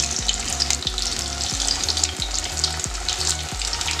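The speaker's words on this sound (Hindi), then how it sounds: "अब एक एक करके इसको हम तेल में डालेंगे।" Rava semolina cutlets frying over medium flame in hot oil produce a loud, dense, unbroken sizzle and bubbling, steady throughout with no one speaking.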